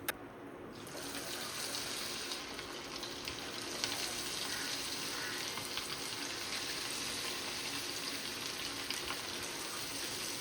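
Chicken pieces deep frying in hot oil for restaurant-style chicken Manchurian give a steady, even, bubbling hiss that runs unbroken for about ten seconds at moderate loudness, with faint crackles scattered through it.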